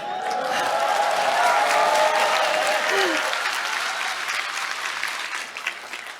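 An audience of local residents applauds at a district New Year greeting and briefing event, a loud, dense wash of clapping from a crowd that holds steady and then slowly thins.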